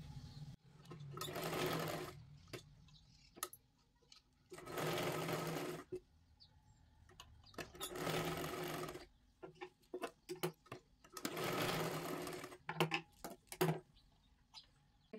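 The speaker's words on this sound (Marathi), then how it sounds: "आता इथे आपल्याला इथपर्यंत टक्स द्यायचा आहे आणि परत एकदा माघारी शिलाई मारून घ्यायची आहे" Sewing machine stitching tucks into a blouse, running in three long steady bursts of whirring stitches separated by short pauses filled with ticking handling noises and light clicks.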